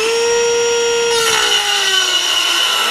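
A Dremel rotary tool cuts the ends off a bike rack, giving a loud, steady high-pitched whine whose pitch dips slightly as it bites into the material, then stops abruptly.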